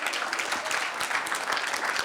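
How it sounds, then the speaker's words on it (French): A church audience claps for the drummer, pianist and choir singers, a dense, steady applause throughout with no talking. "si on peut les applaudir, s'il vous plaît."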